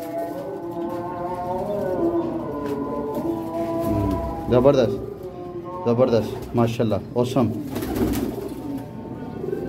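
Pigeons cooing in soft repeated throaty calls, close by, while people talk and exclaim over them.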